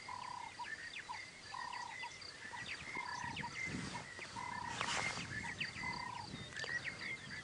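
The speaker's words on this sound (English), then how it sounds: "Definitely lots of frogs chatting about." Many frogs croak in open bushland with impala nearby, repeated rhythmic calls overlapping at a moderate distance with faint chirps and insect sounds behind them, and no talking.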